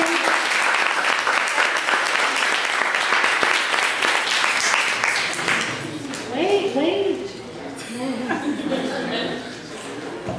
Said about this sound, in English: give her one more round of applause